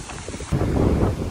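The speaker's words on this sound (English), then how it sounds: "It's very windy this afternoon." Strong wind buffets the microphone in a loud, rumbling roar that surges midway, with no voices.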